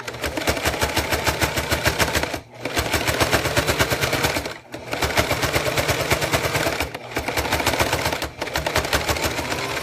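A sewing machine stitching through fleece runs fast and loud in rapid rhythmic stitching, a little cranky, pausing briefly three times before continuing.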